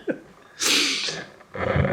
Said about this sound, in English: Watch when I just pretend I'm going to sneeze.